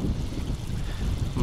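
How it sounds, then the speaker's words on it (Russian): Gusty wind buffets the microphone at a waterside fishing spot during asp fishing, a loud, steady low roar with no pause across the short stretch. "Ну, дует и дует. Никак не прекратится."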